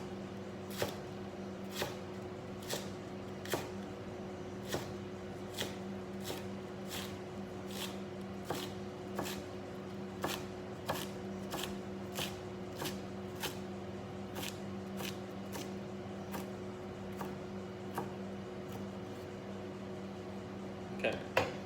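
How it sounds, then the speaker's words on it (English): A knife thinly shredding cabbage on a cutting board, steady evenly spaced sharp chops repeating about once a second, close and fairly quiet with no talking. "So this is how you shred the cabbage."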